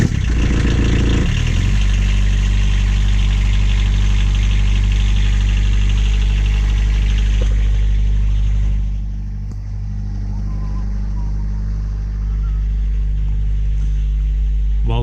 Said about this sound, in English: It'll be the first time I run it today.